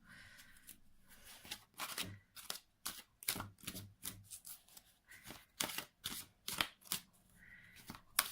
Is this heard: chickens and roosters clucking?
no